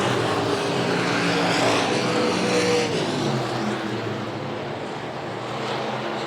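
Fendered stock cars race at Buena Vista Raceway, a loud, continuous engine roar that swells and passes close by, with the droning pitch sliding as cars sweep through the turn.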